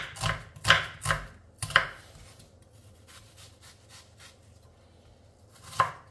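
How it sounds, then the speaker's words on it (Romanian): An onion is chopped finely with a knife on a board, a handful of sharp close cuts in quick bursts followed by quieter scraping, with no talking. "Uite așa, o să tai ceapa."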